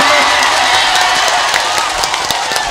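Audience applause at an Urdu-Hindi mushaira poetry gathering in Babuaan, Araria, a dense, loud, continuous wash of clapping and crowd noise with a few cheers mixed in.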